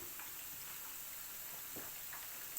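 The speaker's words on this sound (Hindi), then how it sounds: "अब मैं इसकी साइड्स को फ्लिप कर रही हूँ।" Pieces of fish sizzling in a frying pan while being turned over, a steady faint crackle of hot oil with a few soft scraping and tapping touches, no voices.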